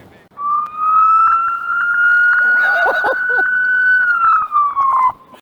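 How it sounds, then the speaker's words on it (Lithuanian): A loud electronic siren wails steadily from a loudspeaker, holding a high sustained tone for several seconds before dropping off, with a brief mechanical warble in the middle. "Ten dar vienas mygtukas yra ant garsiakalbio, sirena vadinasi."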